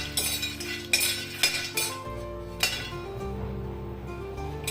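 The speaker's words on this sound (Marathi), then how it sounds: "आता आपण याच्यात मखाणे भाजून घेऊया" Makhana (fox nuts) being dry-roasted and stirred in a pan, with repeated metallic clinks and scrapes of a utensil against the pan over a steady hum, close and moderately loud.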